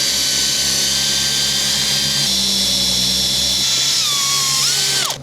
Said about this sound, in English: And then just a 6mm auger bit down the gully